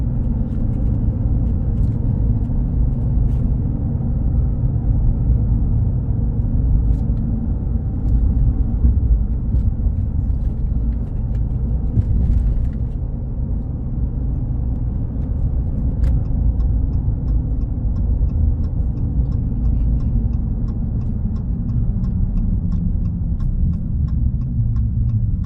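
A Ram 2500 Laramie pickup truck cruises down the road with a steady low engine and tyre rumble heard from inside the cab, with no voices.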